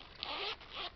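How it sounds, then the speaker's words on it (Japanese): A gold zipper on an orange long wallet slides open in two quick, smooth rasping pulls, close and fairly quiet, with no one talking over it. "チャックもですね、 かなり、スムーズですね。"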